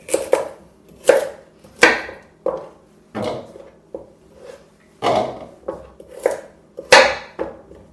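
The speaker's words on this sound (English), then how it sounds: "And then I slice them up into, like basically like 3-inch chunks." A knife chops vegetables into three-inch chunks for juicing, landing about a dozen sharp, close thuds on a board at an uneven pace with short pauses between.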